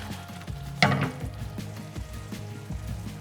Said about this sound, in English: And it's bubbling beautifully.